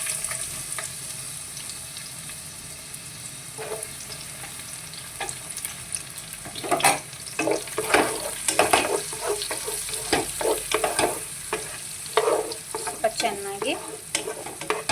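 Chopped onion frying in oil with whole spices and bay leaf, a steady sizzle under repeated scraping and stirring strokes that grow louder and more frequent partway through.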